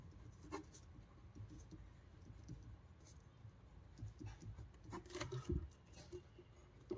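Pen or chalk writing out physics lesson notes on Coulomb's law, a steady close scratching with short stroke bursts and taps, no talk over it.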